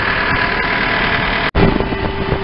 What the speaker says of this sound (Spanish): Y aquí pues este tractor con su sembradora de 4 surcos.